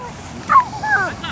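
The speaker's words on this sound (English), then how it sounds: "Whose dog is this?" Puppy giving a short yip and a couple of high whimpers over a low background murmur, at a youth soccer team gathering.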